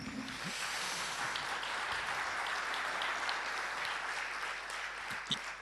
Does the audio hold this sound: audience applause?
yes